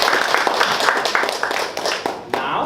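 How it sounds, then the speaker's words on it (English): Applause from a Toastmasters club audience at a meeting, many hands clapping steadily and close, a dense run of sharp claps that thins slightly toward the end. "Round of applause for all of you"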